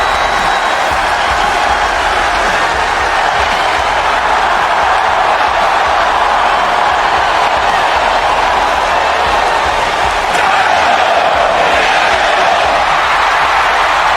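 Arena crowd in the wrestling game WWE 2K25, a dense, steady roar of cheering that holds loud throughout without breaks, with no clear talk over it.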